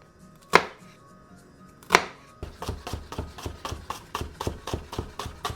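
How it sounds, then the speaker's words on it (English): A knife chops a shallot on a board: two sharp isolated cuts, then a quick even run of about a dozen crisp chops, close and clear with no talking. "cutting a shallot is just like cutting an onion."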